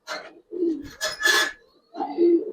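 A pair of very young brown-necked pigeons from a Giribaz and coloring breeder's loft give a few low, throaty coos in short bursts at close range, with a brief rustle between them.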